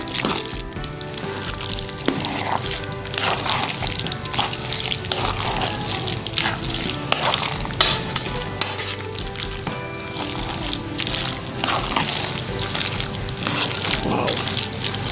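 Macaroni salad being stirred in a bowl, a steady scraping and clinking of a utensil against the bowl with dense mixing noise, close and continuous, with occasional talk over it.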